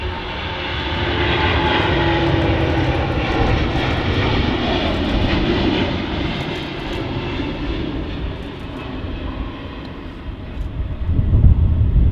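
An airliner takes off at Manchester Airport, its engines a loud, broad roar that holds steady before slowly easing as the aircraft climbs away, with no voices over it.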